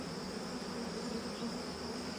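Honey bees hum steadily on a brood frame held up from the hive, a dense, even drone that continues unbroken and fairly close throughout.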